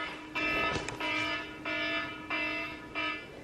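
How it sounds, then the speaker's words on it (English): A phone alarm sounds in a home, a tonal electronic beep pattern repeating in about five evenly spaced bursts, fairly close and clear, with no talking over it. "That's my alarm because I have a 3 o'clock appointment."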